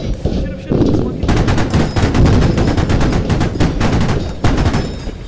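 Rapid bursts of automatic gunfire in a video game firefight ring out loud and close, rattling almost continuously for several seconds while players talk over it.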